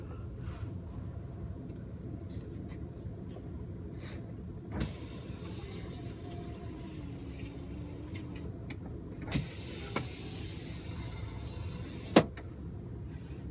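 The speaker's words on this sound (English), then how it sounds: "Power sliding rear window." The power sliding rear window of a 2006 Ford F-150 King Ranch FX4 with over 200,000 miles opens with a steady, low electric motor hum. A few faint clicks and a sharper knock sound near the end.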